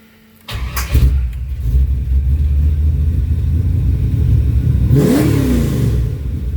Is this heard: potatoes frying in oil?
no